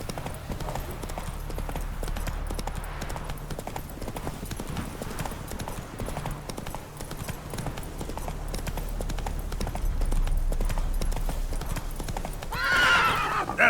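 Roach the horse in The Witcher 3, set in Velen, with steady galloping hoofbeats under a low continuous rumble and a sharp whinnying neigh near the end, up close.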